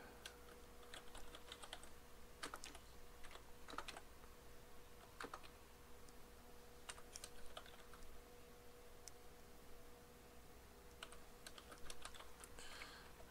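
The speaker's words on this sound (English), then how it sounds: "just type that out real quick" Typing on a computer keyboard while setting up Windows Server backups, with soft, faint key clicks in scattered quick runs and short pauses over a quiet background hum, and no speech.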